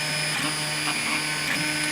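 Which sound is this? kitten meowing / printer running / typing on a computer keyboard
printer running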